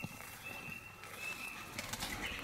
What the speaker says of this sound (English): Oh, pigeons give me a heart attack.